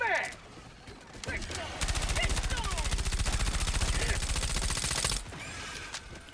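Rapid, sustained automatic bursts from a suppressed ODST submachine gun in Helldivers 2, loud and continuous for several seconds before cutting off, with faint voice chatter around the edges.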